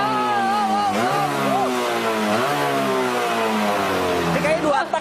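A two-stroke motorcycle engine revs repeatedly, its harmonics rising and falling through several throttle blips over a steady idle, while people talk over it.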